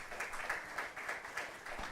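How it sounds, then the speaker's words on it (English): Short round of audience applause at an African climate fellows and grants award ceremony, a soft continuous patter of many hands heard from a distance with no talk. "Can we give her a round of applause?"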